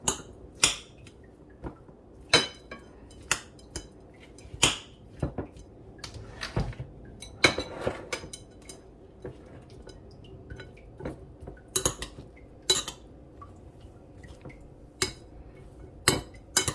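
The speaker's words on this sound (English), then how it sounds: "My salsa, let me mix that up." Utensil clinking and scraping in a bowl while salsa is mixed for Jamaican jerk shrimp tacos, with sharp irregular clinks and taps repeating throughout, close and fairly loud, no talking.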